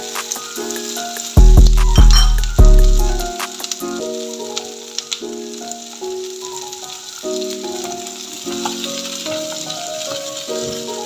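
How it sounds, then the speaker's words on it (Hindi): Capsicum sautéing for chicken Manchurian in a hot pan, loud bursts of sizzling as the pepper hits the oil, then a steady crackling fry with occasional utensil clinks, no one speaking. "मेरे पास 1 शिमला मिर्च है, इसको डाल देंगे। हम थोड़ा सा सौते करेंगे।"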